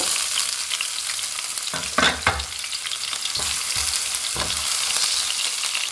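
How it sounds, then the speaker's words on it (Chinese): Scallions and chopped garlic sizzle in hot oil in a wok, a steady dense frying hiss throughout with a few brief louder bursts of stirring partway through, close and fairly loud, no talking. "另起锅放油，加入葱花、蒜末"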